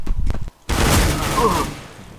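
Rifle fire in Counter-Strike: Global Offensive comes as a few quick shots, then a sustained burst of rapid automatic gunfire right up close and loud, with game sounds and players' voices mixed in.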